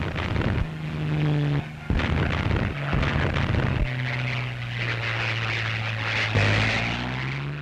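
A Hurricane IID fighter-bomber with its anti-tank cannon firing, several heavy thudding gunshots in uneven bursts over a droning propeller engine whose pitch holds and shifts, loud and close with no speech.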